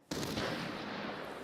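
Automatic gunfire from AI enemies in Arena Breakout: Infinite, a sudden loud burst of rapid shots that starts abruptly and keeps going as a dense, sustained barrage with no voices.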